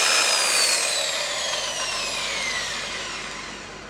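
A variable speed buffer polishing with compound whirs as its pitch climbs, a soft high rushing hum that gradually fades over a few seconds.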